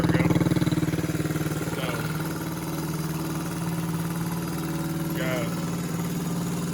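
A Honda CT90 motorcycle, back on the road after more than twenty years, idles with a steady low thrum that runs through the whole stretch, while someone talks briefly over it.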